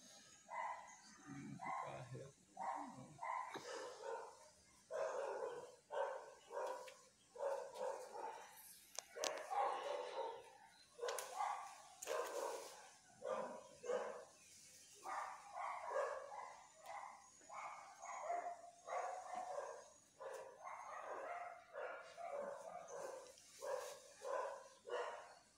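Several dogs bark repeatedly at a distance, in irregular bursts throughout, fairly faint against quiet, windy outdoor air.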